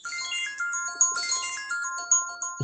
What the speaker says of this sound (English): Wow, my phone's ringing.